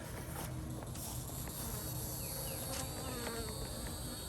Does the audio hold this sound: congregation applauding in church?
no